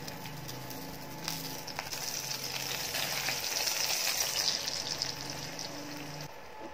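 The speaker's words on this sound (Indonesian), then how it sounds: "Tuang adukan telur. Masak sampai matang, jangan lupa dibalik" Beaten egg frying in hot oil into an omelette, a close, continuous crackling sizzle that swells slightly in the middle, with a few faint clicks from utensils.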